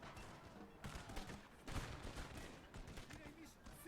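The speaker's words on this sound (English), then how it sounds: "Trying to pick off some of these gun crew with small arms fire" Small arms fire from Napoleonic line infantry in Napoleon Total War, with muskets aimed at enemy gun crews at the Battle of Salamanca. Crackling volleys and scattered shots sound at a distance, fairly faint, in a continuous ragged stream.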